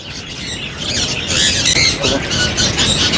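Caged cockatiels and other birds at a Sunday bird market in Bahawalpur squawk and squeal continuously, loud and close, with shrill overlapping calls and faint crowd talk underneath.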